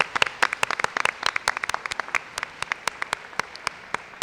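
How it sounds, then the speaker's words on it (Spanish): A studio audience claps for a quiz show winner, a sparse run of distinct individual claps that thins out over a few seconds, moderately close with no voices. "Pues un aplauso para Guillermo porque se lleva esos."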